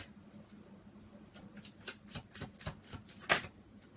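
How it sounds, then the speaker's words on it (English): Tarot cards riffled and snapped in a series of quick, crisp bursts, building to a sharper slap near the end, close by with no talking. "I want to shuffle again"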